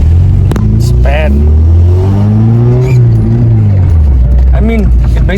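A Volkswagen Golf Mk1 engine drones and rises while driving, a loud close low rumble with revving swells, as someone talks over it.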